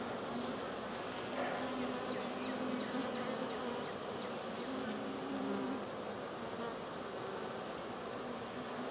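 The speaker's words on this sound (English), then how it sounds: "see some bees doing some stuff in some cells." Honey bees swarm over a hive frame holding capped brood and queen cells, making a dense, continuous buzzing hum up close that stays even throughout.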